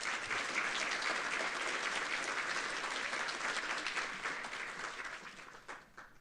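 A conference audience at Code4Lib 2025 applauds after a lightning talk: dense, steady clapping from many hands, fairly distant, thinning out toward the end.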